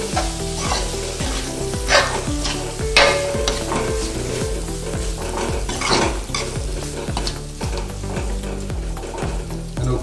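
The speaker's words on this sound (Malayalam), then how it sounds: "നല്ലോണം മിക്സ് ചെയ്യാം മാങ്ങ ശരിക്കും ഒന്ന് വാടി വരും" Raw mango curry is stirred in a pan, a spoon scraping in a steady repeated rhythm over a constant loud sizzle of frying, close up with no talking.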